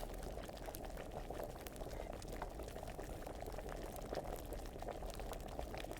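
Potion bubbling in an alchemy cauldron in the video game Kingdom Come: Deliverance, a steady, continuous boil with dense bubbling and no talk throughout.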